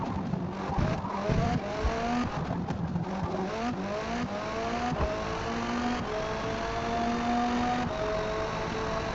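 A racing car engine in Forza Motorsport revs and shifts through gears continuously, with rising and falling pitch sweeps and a brief tire squeal, loud and close throughout with no talk.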